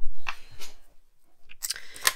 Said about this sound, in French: Donc là, on va prendre des ciseaux.